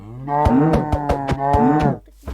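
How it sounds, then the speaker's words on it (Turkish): A cow in the Minecraft video game moos loudly and close by, a long, steady, throaty low call lasting about two seconds, followed by a brief thud. "Gördüğünüz gibi inek ayağınıza geliyor."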